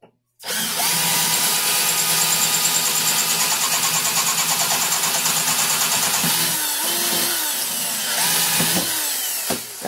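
A cordless screwdriver spins a screw for an attempted friction weld, its motor whining loud and steady for most of the clip with a grinding edge, pitch wavering and sagging briefly toward the end.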